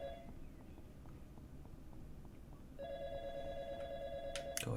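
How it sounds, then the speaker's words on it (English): In the video game YIIK, quiet rhythmic ticking steps give way midway to a bright, sustained electronic telephone ring that carries on to the end. "Just answer the phone."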